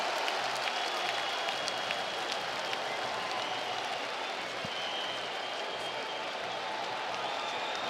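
A capacity crowd at London's O2 Arena applauds after the Kamaru Usman versus Leon Edwards fight, a dense, steady wash of clapping and cheering heard from within the arena, broad and unbroken throughout.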